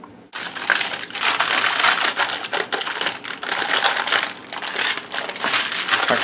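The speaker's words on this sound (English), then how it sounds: "it's giving me some difficulties to peel off this bottom layer of cookie dough" Parchment paper being peeled away from a layer of cookie dough, close and loud crinkling and crackling with irregular sharp rustles continuing throughout and no talk.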